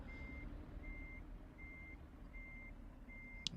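A truck backing a large trailer into place in Euro Truck Simulator 2 sounds five evenly spaced reversing beeps over a low, steady diesel idle, faint and regular, ending with a brief sharp hiss.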